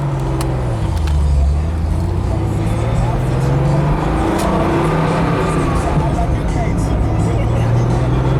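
A 1996 Porsche 911 Cabriolet with a 6-speed gearbox cruises along the road, its engine droning steadily with shifting pitch throughout, close and loud, while a person talks over it.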